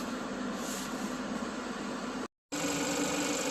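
A 2013 Hyundai Santa Fe engine idles with the air conditioning on, fan at maximum, giving a steady, even hum and hiss broken by one short drop to silence.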